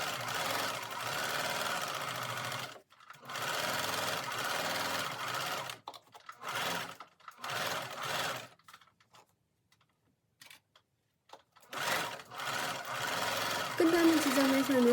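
A sewing machine stitches the lining of a cashmere coat with a steady close mechanical whir. It runs in several bursts of a few seconds each, with short pauses between them and a longer silence near the end.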